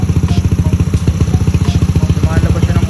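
A motorcycle engine idles nearby with a rapid, steady clattering pulse, loud and mechanical throughout.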